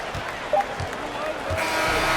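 Crowd cheering and applause in a basketball video game after a Lakers win, a steady broad wash of arena noise that swells slightly toward the end, with faint low thumps underneath.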